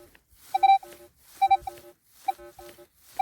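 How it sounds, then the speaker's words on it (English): Choppy, broken tones from a Minelab Equinox 800 metal detector sweeping over iron, short beeps in clusters of two or three with quiet gaps, fairly close and clear. "Can you hear the iron, and can you hear the choppiness in the tone?"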